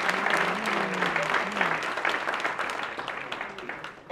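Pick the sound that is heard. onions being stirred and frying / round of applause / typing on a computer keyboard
round of applause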